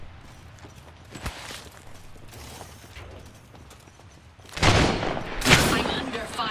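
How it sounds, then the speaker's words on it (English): Gunfire in the video game Apex Legends: quiet distant shots early, then louder bursts of firing near the end, mixed with footsteps and game mechanism clatter, under light background noise. "I'm under fire."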